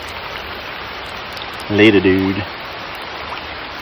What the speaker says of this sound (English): It be raining, guys.